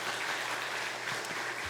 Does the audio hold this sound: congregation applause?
yes